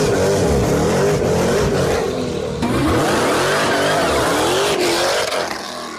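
A 1000 HP Jeep Trackhawk in track mode launches from a standstill in first gear, engine roaring loud and close with a rising rev sweep and all four tires spinning and squealing, continuous for several seconds.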